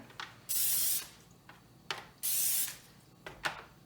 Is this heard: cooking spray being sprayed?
yes